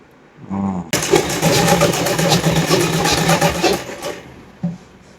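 An electric sewing machine stitching a salwar, starting after a brief motor whir and then running loud and close in a steady, fast rattling chatter for about three seconds before stopping, with a short final burst.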